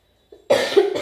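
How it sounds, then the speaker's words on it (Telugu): A person with a cold coughs once, a close, loud burst with a short second hack, after a brief catch of breath. "దగ్గు కూడా వస్తుంది నాకు బాగా."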